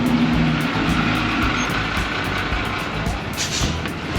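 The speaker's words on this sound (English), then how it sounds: "now we're about to jump in the local bus" A local bus in Bangkok rumbles with a loud, steady engine drone and low road noise from close by, under busy street ambience.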